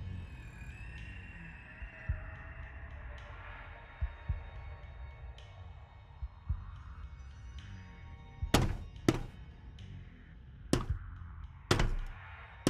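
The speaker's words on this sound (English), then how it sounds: "Let's try to climb on the ladder." Climbing a ladder in the PSVR2 game Operation Serpens brings soft low thumps, followed by a run of sharp, loud thunks at uneven intervals, close by and alone with no talking.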